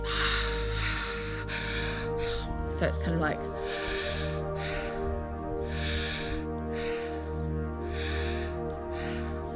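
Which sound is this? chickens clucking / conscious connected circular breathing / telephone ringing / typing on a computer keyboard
conscious connected circular breathing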